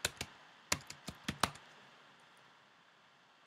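Brief bursts of keystrokes on a computer keyboard, a few quick clicks in two short clusters, then near silence with a faint tap at the end.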